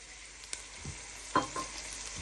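Chopped tomatoes go into a pan with mozzarella meatballs, onion and garlic, giving a soft steady sizzle punctuated by a few short stirring scrapes and taps.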